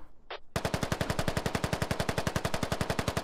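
Automatic weapon fire in the tactical shooter Squad: a fast, loud, unbroken burst of evenly spaced shots running steadily after a brief quiet lead-in.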